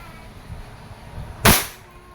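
An E&C airsoft Glock 17 pistol fires a single sharp, close crack about halfway through, preceded by quiet handling noise and background hum.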